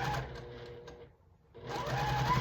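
A sewing machine stitches a quarter-inch seam on quilt fabric squares, a close steady whirring hum that drops away briefly in the middle before starting again at full speed.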